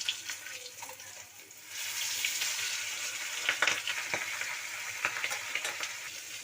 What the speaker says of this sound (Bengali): এই দেখুন, হালকা ভেজে উঠিয়ে নেব।